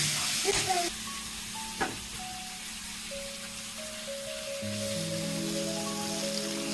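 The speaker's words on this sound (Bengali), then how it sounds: "সম্বারে চিকন জিরা এলাচ দারচিনি এগুলো দিয়ে দিচ্ছি আমি এখন চিকেনগুলো দিয়ে দিচ্ছি" Chicken pieces go into hot oil spiced with cumin, cardamom and cinnamon, raising a steady, moderately loud sizzle close by that continues under a person speaking.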